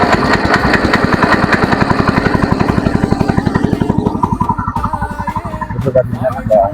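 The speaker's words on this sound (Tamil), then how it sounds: "நம்ம மிஷினை ஒரு அளவு ஸ்டார்ட் பண்ணிட்டோம்" A farm machine's engine catching and running, a fast regular chugging pulse that holds steady, then fades and roughens as the running changes, loud and close.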